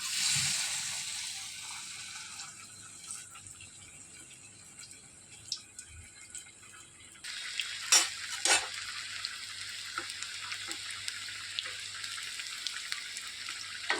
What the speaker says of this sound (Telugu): ఆయిల్ వేడెక్కిందండి. ఇప్పుడు వడలు అనేవి వేసేసుకుందాము.